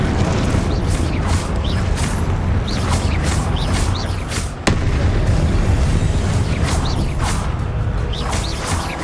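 Booming blasts from the Confringo fire spell in the game Hogwarts Legacy erupt one after another, loud, crunchy explosions layered over a continuous rumbling battle din, with one sharp crack standing out midway.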